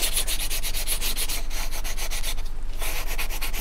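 Balsa wood rudder and elevator assembly for a vintage Barnstormer 25S RC plane being sanded by hand, close and loud, with steady rhythmic back-and-forth rasping strokes and a brief pause near the end.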